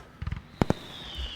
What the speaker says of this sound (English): Fireworks and cheers.